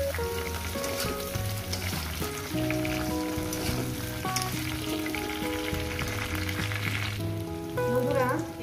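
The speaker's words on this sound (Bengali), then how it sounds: "ওই 5-6 মিনিটের মধ্যেই বেগুনটাও ভাজা হবে" Brinjal pieces and green chilli fry in a pan, a steady sizzle running through the whole stretch beneath a louder tonal music backing, with no talk.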